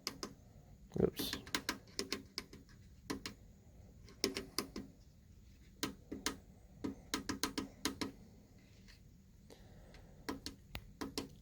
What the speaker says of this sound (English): using these arrow keys here to maneuver around this screen, and using the keypad to put some times in